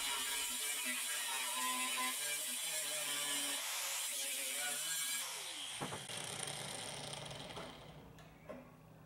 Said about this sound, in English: I'm just cutting this section out with a cutoff disc and a grinder.